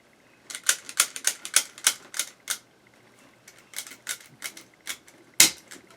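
A zip tie gun tightening zip ties on a breast cancer daisy wreath gives crisp clicking ratchets in quick bursts, one fast run of clicks, a pause, then more scattered clicks ending in a sharp snap, close and clear.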